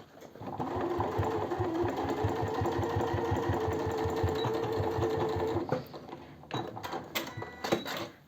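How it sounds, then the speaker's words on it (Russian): Sewing machine stitching the corners of an eco-leather cosmetic bag with a one-centimetre seam: a loud, steady, fast mechanical whirr of stitches runs for about five seconds, then stops and gives way to a few light handling knocks. "Сейчас я стачиваю уголки, ширина шва сантиметр."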